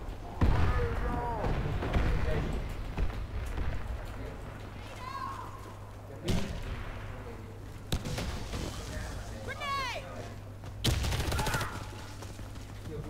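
A shooter video game fires gunshots in several sharp, loud bursts spread across the clip, with a person talking between and over the shots.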